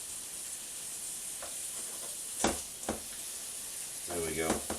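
Hot dog pieces and free-range eggs sizzle in a wok as they are mixed, a steady hiss with a few scraping strokes and a brief burst near the end.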